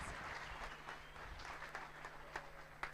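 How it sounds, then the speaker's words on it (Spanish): An audience applauds a presenter at a geospatial talk, a faint, distant patter of clapping with scattered sharper claps, low in level and steady for a few seconds. "Fuerte el aplauso, por favor"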